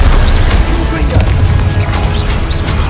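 Confringo blasting curse explosions in a Harry Potter video game, loud repeated booming blasts and crackling bursts layered over dense game noise and spell-casting voices.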